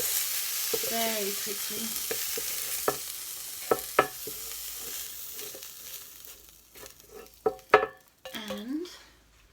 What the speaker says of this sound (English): we're going to chuck in our mushrooms